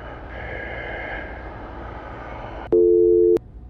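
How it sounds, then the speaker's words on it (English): A phone in an indie horror game starts ringing with an incoming call: one steady electronic ring tone cuts in sharply after a stretch of low ambient hum, sounds for about half a second, then stops abruptly. "Getting a fucking phone call."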